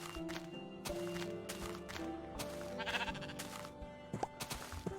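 Sheep in the video game Moderner Beta bleat several times in quick succession, close and clear, over faint footsteps and a soft game background.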